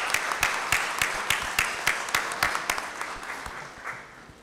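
A conference audience applauds steadily, a dense wash of many hands clapping at a fairly close distance that slowly thins toward the end.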